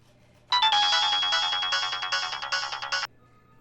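A phone ringtone rings out loud and close for about two and a half seconds, a steady electronic melody with a quick repeating pulse, alone with no speech.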